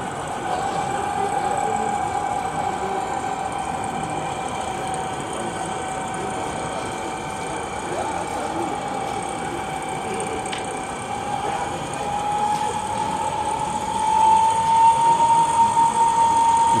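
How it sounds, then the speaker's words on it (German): A Steiner Modellwerke Köf model locomotive in gauge 1 runs on a modular 1:32 scale layout, giving a steady, even rumble with a thin motor whine that grows slightly louder near the end. "Dann lassen wir mal die Köf von Steiner Modellwerke hier fahren"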